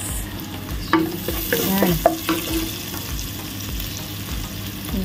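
Onions sautéing in a pan for chicken feet adobo: a steady low sizzle with scraping stir strokes, one near the start and a couple around the two-second mark, while a voice speaks briefly over the cooking.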